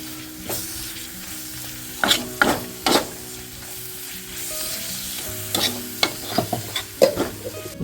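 Ground goda masala with roasted onion and coconut sizzles in a pan, with a steady fry hiss broken by several sharp scraping stirs of a spoon close by.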